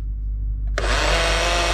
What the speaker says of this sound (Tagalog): I-blender natin, guys.